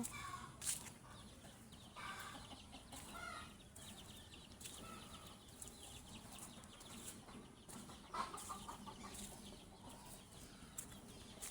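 Native country chickens cluck and call in a farmyard, repeated short calls of moderate loudness over steady outdoor background noise, with a few brief wing-flap-like bursts.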